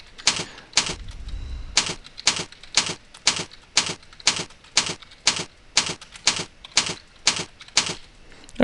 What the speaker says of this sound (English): once I've finished typing in the first point, I press Enter